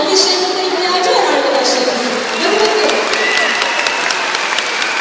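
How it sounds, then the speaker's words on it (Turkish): A school audience applauds a primary school class 4C after their Zeybek folk dance. The clapping is dense and steady throughout, with some cheering and crowd murmur mixed in. "Lütfen alkışlarınıza ihtiyacı var"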